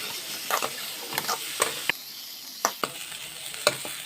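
Carrots and onions sautéing in a pan for Indian-style masala pasta, a soft steady sizzle broken by sharp scraping stirs of the spatula every half second or so.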